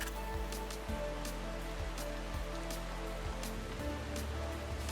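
Rain falls in the MotoGP 25 motorcycle racing game, a steady hissing patter of drops, with a low engine-like rumble and periodic soft thumps underneath, no speech.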